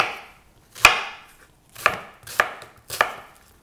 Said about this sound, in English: So I'm just gonna do little big old third slices of onion here.